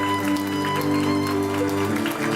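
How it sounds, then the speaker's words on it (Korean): Wedding guests keep applauding as both mothers walk in hand in hand, with live wedding music playing throughout. The even wash of clapping stays at a steady level over the sustained instrumental tones. "축복의 큰 박수 계속해서 보내주시기바랍니다"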